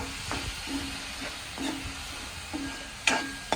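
Masala frying in oil while a spoon stirs it, a soft steady sizzle with scraping strokes and a few sharper metallic taps against the pan near the end, close and fairly quiet.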